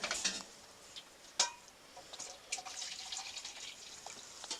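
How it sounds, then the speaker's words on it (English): Water poured into a Peak Refuel beef stroganoff meal pouch, heard as quiet close trickling and splashing with light crinkles and taps of the pouch, faint and uneven, with no talking. "we're doing 3/4 cup water in the Peak."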